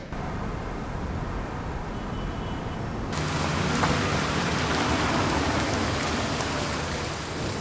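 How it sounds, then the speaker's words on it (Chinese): Steady rain pours outdoors at night, a dense broadband hiss that grows heavier and louder partway through and then holds constant, with no voices. "下雨了，你们带伞了吗？"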